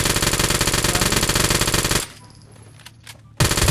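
M4A1 rifle firing full auto in the shooter game Knives Out: a loud, rapid continuous burst for about two seconds, a short lull with faint clicks, then the burst resumes abruptly.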